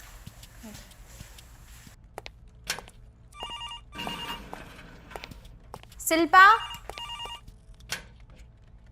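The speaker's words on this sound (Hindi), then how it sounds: "ये फोन भी इसी टाइम पे बजना था।" A telephone ringing indoors, a few brief repeated rings that come and go amid a voice and other low room sounds.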